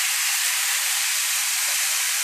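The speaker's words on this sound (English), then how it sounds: "So you hear that sizzling noise" Loud, continuous sizzle, a steady bright hiss of chicken frying on a hot grill with no pauses.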